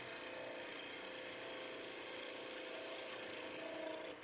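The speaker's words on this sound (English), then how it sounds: "We use shear cutting of the wood, and especially in this curly maple that we have right here" A skew chisel shear-cuts curly maple on a spinning wood lathe for a peppermill, a soft, steady hiss of the cut held through the whole stretch and easing off at the end.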